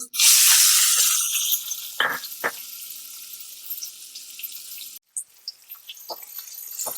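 Sliced onion tipped into a hot pan of roasted cumin seeds for a village-style dried bombil dish, bursting into a loud, broad sizzle that gradually settles to a steady crackle with a few sharp spits, no voices.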